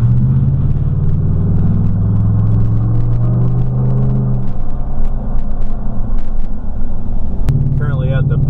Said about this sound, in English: Got the F-150 sounding marvelous.